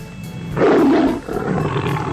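A single loud, deep tiger roar rises abruptly and rumbles on, followed by a lower growling tail; no speech.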